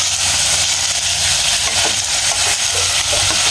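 Vegetables being stirred in a pan with oyster sauce for a coconut-milk vegetable stew, a steady close scraping and sizzling hiss that runs without pause.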